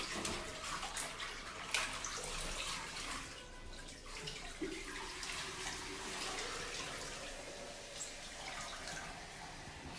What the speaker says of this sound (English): So I come back here and wash it again.